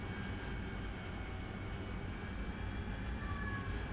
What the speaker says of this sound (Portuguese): Olha o motor miando.